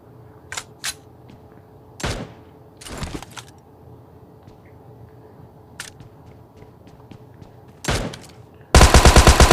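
Scattered distant gunshots in a battle royale video game at Pochinki, single sharp cracks spaced apart over quiet background, ending in a sudden loud rapid automatic burst up close.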